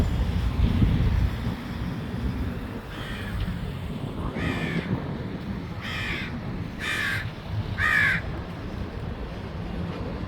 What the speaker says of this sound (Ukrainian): ворони каркають